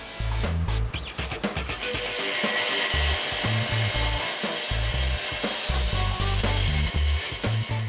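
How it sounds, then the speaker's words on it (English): A jigsaw cuts curved shapes out of a solid block of ice, its blade buzzing and chattering loudly and continuously with rapid rough rasping throughout. "The jigsaw is a good way of cutting curved shapes very accurately out of the solid ice."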